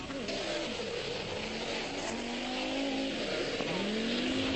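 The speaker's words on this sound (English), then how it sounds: "Voldegaard flings the Toyota Celica into the bend" A Toyota Celica rally car thrown into a bend on the 1984 RAC Rally, its engine note climbing and falling through the corner over steady road and crowd noise, loud and continuous.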